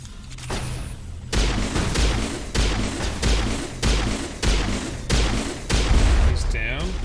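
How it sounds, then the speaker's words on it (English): Combat in the video game Mass Effect with a rocket exploding: a string of heavy booming blasts at a steady rhythm, loud and close, ending in a rising whine. "Oh, that's a rocket."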